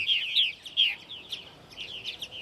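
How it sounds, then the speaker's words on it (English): Purple martins chirping in bursts of bright, quick twittering calls as they return to their nest houses in the evening at Center Moriches, Long Island, New York, close and clear with short gaps between phrases. "we are getting more and more birds arriving back at these houses"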